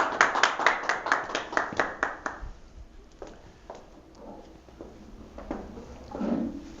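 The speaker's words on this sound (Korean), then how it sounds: "뜨거운 손뼉으로 우리 허재강 엄마를 모셔보도록 하겠습니다" Audience applause welcoming a speaker at an education lecture event: about a dozen crisp, evenly spaced claps at first, then scattered fading hand claps and small shuffling noises, indoors and fairly close.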